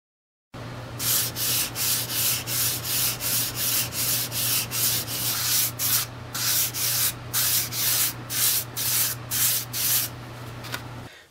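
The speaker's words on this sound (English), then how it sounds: "just kind of block sand this area with really fine sandpaper to bring that back down" Wood gunstock being block sanded with very fine sandpaper between finish coats, a steady series of rhythmic back-and-forth rasping strokes, close and continuous for about eleven seconds over a low constant hum.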